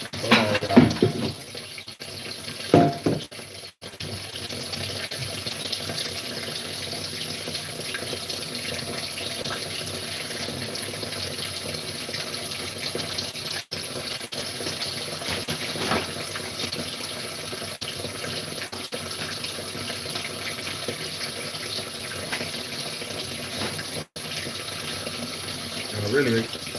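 Steady stream of water running from a kitchen tap into a sink, loud and continuous with a few brief interruptions, while a person talks over it.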